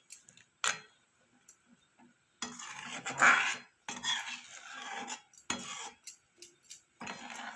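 Drumstick and potato curry being stirred in a pan, a spoon scraping and clinking in short bursts separated by pauses, fairly close and moderate in volume with no talk.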